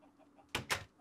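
Two short, close clucks from chickens on a Minecraft chicken farm, separated by a brief pause, over a quiet background with no talking.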